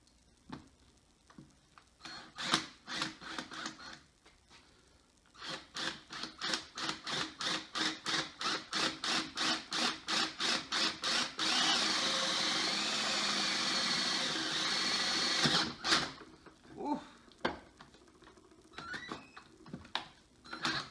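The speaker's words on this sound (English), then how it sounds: "And drill our hole." Rapid, rhythmic rasping bursts of a drill working into wood build into a steady grinding stretch, then stop with a few scattered knocks.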